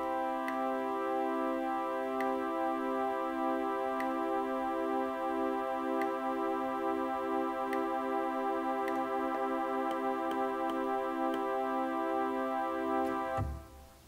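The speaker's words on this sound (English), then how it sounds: "as we increase the value, you'll hear that the beat frequency increases." A sustained pipe organ chord with detuned celeste ranks giving a slow, regular pulsing waver, the beating speeding up as the detune increases, faint clicks ticking at intervals, ending abruptly near the close.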